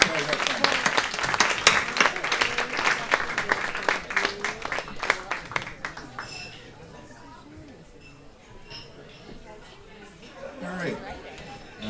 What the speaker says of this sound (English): let's give Jeremy a round of applause